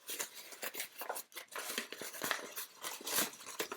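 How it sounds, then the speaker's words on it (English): Sheets of paper crumpled by hand in a first-grade pastel art lesson, a close, continuous run of crinkling and crackling bursts with no talk over them. "both your sheets are going to crumple."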